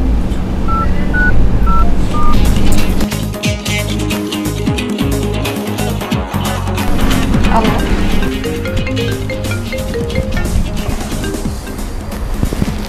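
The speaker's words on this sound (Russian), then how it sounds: "А сейчас я наберу к нему." A phone number being dialed gives a few short, separate tones at the start, then a loud, busy mix of rhythmic musical sounds and noise continues throughout.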